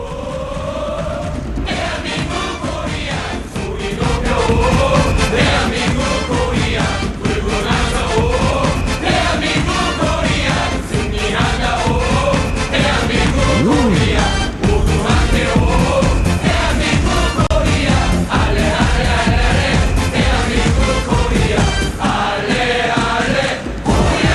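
A huge crowd roars and cheers without a break during a Korea World Cup match, a dense, loud wall of massed voices with rising yells and whoops that swells and holds for the whole stretch.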